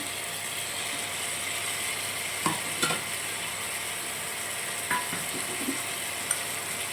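Potatoes fry in oil in a pan for a thin Bengali fish curry, a soft steady sizzle with a few scraping stirs and knocks of a spatula against the pan, no talking.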